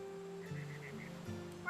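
A bird call in What Remains of Edith Finch: a few short, faint, honking, duck-like calls over a low sustained game tone, ending in a slightly louder cry.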